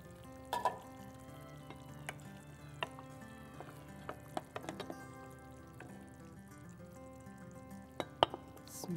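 Libyan potato stew is ladled from the pot onto a serving plate: scattered metallic clinks and scrapes of a spoon against cookware over a soft, steady background hiss.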